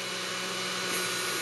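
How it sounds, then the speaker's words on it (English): A kitchen juicer grinding hard raw sweet potato gives a steady, loud, close motor whine with a broadband grinding roar that holds unbroken for the whole stretch, with no voices. "Sweet potato is really hard, but it grinds up real easy."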